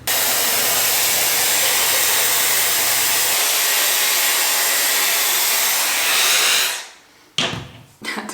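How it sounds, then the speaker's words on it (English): A hair dryer blows steadily at close range as hair is blown out, a loud constant rushing whoosh that shuts off near the end, followed by a few brief handling knocks. "I'm gonna blow out my hair."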